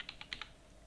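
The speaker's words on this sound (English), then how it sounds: "Type the email ID" An email ID is typed on a computer keyboard: five quick, faint key clicks in an uneven run during the first half, then quiet room tone, with no talk.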